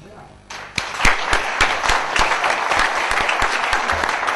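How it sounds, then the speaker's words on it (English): Applause breaks out after a brief quiet moment at a business event and builds into steady clapping with a few sharp, distinct claps near the front. "I want to give him a round of applause for even accepting that, subject to."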